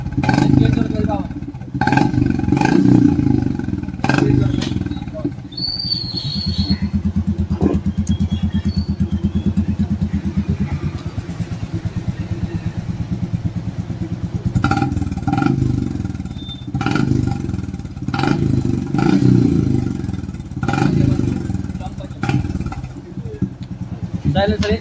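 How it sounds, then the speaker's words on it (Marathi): A Bullet motorcycle fitted with an HK Indore aftermarket silencer idles and revs close by, giving a steady low exhaust thump throughout, with someone talking over it. "HK इंदोरचा आवाज पाहा ना."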